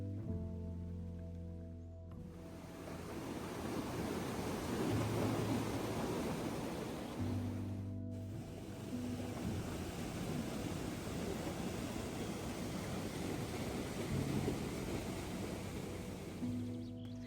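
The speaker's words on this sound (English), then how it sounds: "It's raining like crazy." Heavy monsoon rain pours steadily on a mountain trek between Nunthala and Lukla on the Everest Base Camp route, a dense, continuous roar with no talk.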